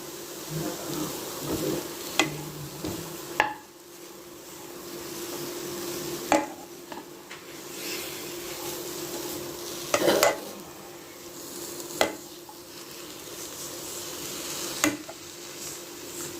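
Mint, coriander and curry leaves sautéed in a pan for capsicum curd gravy: a low, steady sizzle runs throughout, broken by several sharp clinks and scrapes of a spoon against the pan, with no talking.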